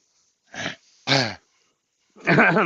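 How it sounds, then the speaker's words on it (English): Three short bursts of throat clearing, close and fairly loud, separated by brief silences, with the last one longer and rougher. "I was genuinely clearing my throat"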